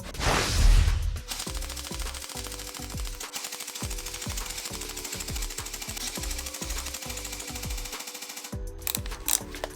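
An SRC steel MP40 airsoft gun fires long rapid full-auto bursts, a loud mechanical rattling chatter with brief pauses between strings, close and alone without talk.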